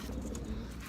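Racing pigeons give a short, soft, low coo, faint and close against a muffled background hum.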